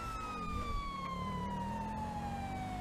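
A police car siren in a video game wails in a long, slowly falling tone, loud and close over a low rumbling vehicle noise, with no talking.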